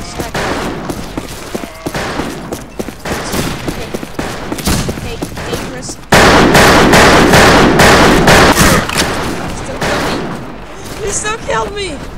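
Rapid gunfire from a top-tier sniper rifle and other guns in the Wild West shooter game Fistful of Frags, a dense, loud barrage of shots that grows heavier midway, with game sounds mixed in.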